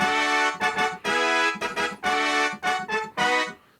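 Brass synth patch on a MainStage keyboard rig played in the upper register, a run of bright, punchy stabs and short held chords in a choppy rhythm, loud and alone with no talking.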